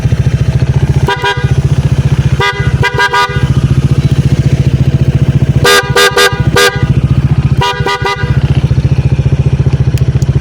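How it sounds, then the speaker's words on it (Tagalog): A loud aftermarket PIAA dual horn on a Honda ADV 160 motorcycle blasts in several bursts, single and clustered, over a constant rumbling engine idle. "loud horn."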